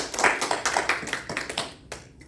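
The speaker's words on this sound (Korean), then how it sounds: "박수 한번 주시죠" A church congregation at a Sunday worship service in Toronto claps in a quick, uneven burst of applause that fades out after about two seconds.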